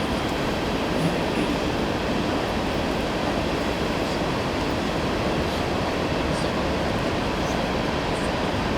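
A train rumbles past an outdoor wedding ceremony in a steady, loud, continuous roar with faint rail clatter, holding the same level throughout and drowning out everything else.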